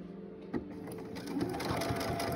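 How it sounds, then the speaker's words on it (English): A sewing machine stitching a baby bib: a quiet, steady mechanical whirr of the needle running close by, with a small thump early on and a slight rise in pace later; no talking. "So we're going to lower the pressure foot and let's begin sewing."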